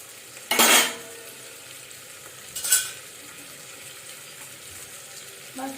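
Rice and grated ginger cook in a pan under a low, steady sizzle, broken by two bursts of stirring and scraping, close by with no talking.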